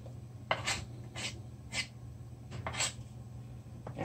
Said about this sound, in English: now I'm gonna scrape it in the baking pan